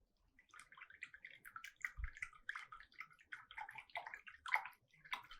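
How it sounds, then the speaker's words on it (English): Glass rod stirring and tapping in water, a quick irregular run of small splashy sloshes and clinks, close and fairly quiet, continuing for several seconds with one brief low thump partway through. "I am going to make sound in water using this glass rod."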